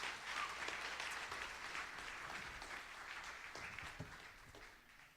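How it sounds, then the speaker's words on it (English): A church audience on a KidsPoint Sunday gives a steady round of applause, moderately distant and sustained for several seconds before gradually thinning out. "Give her a round of applause."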